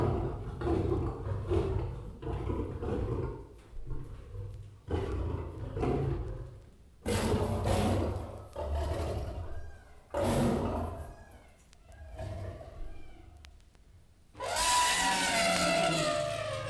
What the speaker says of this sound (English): lions and elephants,